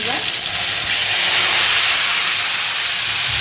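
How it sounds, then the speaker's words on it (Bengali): Cumin seeds sizzle in hot oil in a wok, a steady, loud frying hiss that fills the whole stretch without talk. "কড়াইতে তেল দিয়েছি তেলটা গরম হয়ে গেছে একটু জিরে ফোড়ন দেবো"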